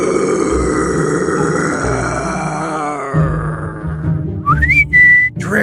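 A Halloween monster sound effect: a long, low growling groan that slides and wavers, followed by a few short rising whistle-like cries, loud and alone with no talk.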